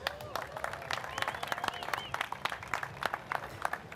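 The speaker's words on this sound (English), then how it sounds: "So please, a round of applause" Audience at a surfing competition ceremony applauding, dense clapping with sharp individual claps over a crowd murmur, fairly faint and distant.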